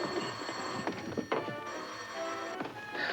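An old telephone bell rings in a 1936 Laurel and Hardy comedy, a sustained metallic jangle broken by a couple of thumps, set over faint background music with no talk.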